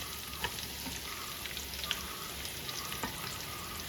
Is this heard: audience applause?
no